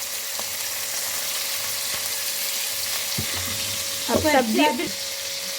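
Small bite-sized pieces of chicken fry in a pan with a steady close sizzle and a few stirring clicks, and a brief spoken phrase rises over the frying near the end.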